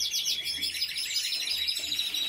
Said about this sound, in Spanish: yo tengo pájaros ahí criando